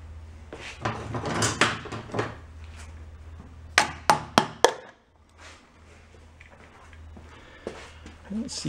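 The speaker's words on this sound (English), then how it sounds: "Hit it with a hammer." Hammer strikes on an engine's upper valve train with the valve covers removed, four sharp metallic taps in quick succession amid speech and shop noise.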